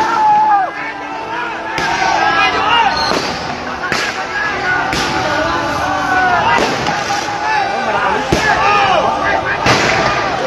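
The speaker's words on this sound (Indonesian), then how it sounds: "para pengunjuk rasa mahasiswa menyalakan flare dan juga kembang api di depan gedung sate" Repeated sharp bangs of fireworks and flares burst every second or two amid a noisy student protest crowd outside Gedung Sate, with shouting voices and whistling crackles between the explosions.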